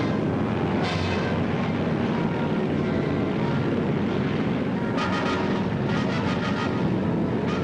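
Heavy droning roar of many approaching WWII aircraft during an airborne assault on Crete, a dense, loud, continuous throbbing rumble with pulsing beats, no talk.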